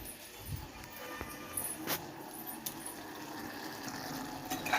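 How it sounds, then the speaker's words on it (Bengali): Water poured from above into a cooking pot on a kitchen stove, a soft, steady splashing and trickling with a few sharper clinks of a container against the rim. "এই যে এটা এবারে জল দিয়ে ঢাকনাটা লাগিয়ে দেবো, দিয়ে দিলাম জল।"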